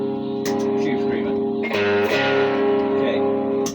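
Electric guitar through a Tube Screamer overdrive pedal, a few strummed chords ringing out with mild, warm grit and sustained tone, each strike clearly audible and up close.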